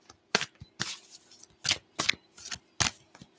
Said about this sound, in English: First shuffling.